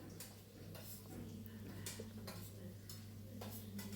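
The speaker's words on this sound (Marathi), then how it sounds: "छान असे कांदे आपल्याला फ्राय करून घ्यायचे आहे तेलावरती जवळपास दोन ते तीन मिनटं" Chopped onions sizzle in hot oil in a pan while potato poha is being cooked, a steady close frying hiss with a low hum and a few light stirring scrapes, no talking.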